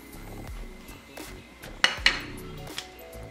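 A spoon or utensil clinks and scrapes against a pot while homemade processed cheese is stirred, with a few soft knocks followed by two sharper metallic taps close by.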